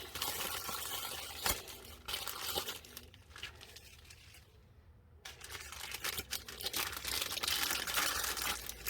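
A mail package is torn open by hand at close range, with loud crinkling plastic and ripping bursts, a brief pause in the middle, then more rustling and tearing.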